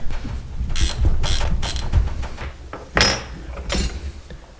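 A hand ratchet loosening the front brake cable bracket on an MT250 motorcycle during fork restoration, with several bursts of loud, close pawl clicking separated by short pauses and no talking.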